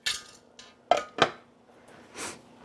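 A lid set onto a pot of simmering sauce: a few sharp metallic clanks and clinks, two louder knocks close together, then a softer rattle, with no talking.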